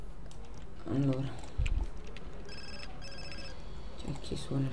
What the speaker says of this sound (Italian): C'è chi suona il telefono?